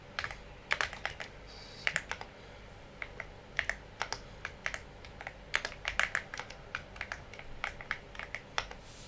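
Data being typed on a computer keyboard: a steady run of quick, light key clicks in irregular bursts, close and fairly quiet, with no talking.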